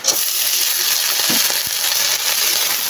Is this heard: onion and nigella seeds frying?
yes